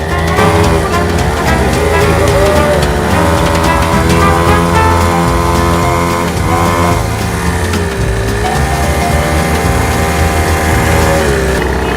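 A 49cc mini dirt bike engine runs loud and steady for the whole stretch, a buzzing small-displacement drone with slight pitch shifts as the throttle changes, and no voices over it.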